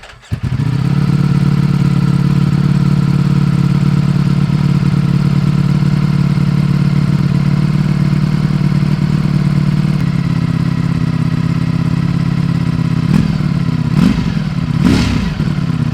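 A 2022 Ducati Streetfighter V4S with a stock Desmosedici Stradale 90-degree V4 engine runs steadily, a loud, close, continuous drone that holds for most of the time, with a few sharp throttle blips near the end.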